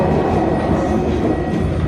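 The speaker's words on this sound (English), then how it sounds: "We are riding the tram." Riding aboard a tram, with a continuous low rumbling rattle of the car moving along its rails, close and steady for a short stretch without talk.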